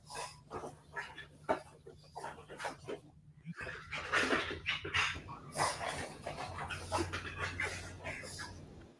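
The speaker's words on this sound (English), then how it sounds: "That is a dog." A dog heard from somewhere outside the home, with panting, whimpering and a few sharp barks mixed with rustling and thumps, fairly close and moderately loud, while a low steady hum runs underneath.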